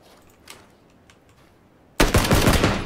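A burst of loud, close gunfire from PUBG (PlayerUnknown's Battlegrounds) erupts suddenly after a quiet stretch with a few faint distant shots, the rapid shots running together into a dense volley.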